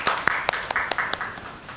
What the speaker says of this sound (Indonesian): Bagi tepuk tangan untuk Mbak Sarah.